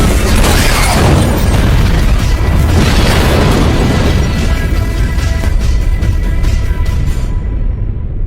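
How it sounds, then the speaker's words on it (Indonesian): A car explodes at a gas station in a film scene, a loud, sustained roaring boom with crashing debris that fills the whole stretch before cutting off abruptly. "Alhasil mobil itu meledak hingga Stephen menganggap bahwa Arthur sudah mati."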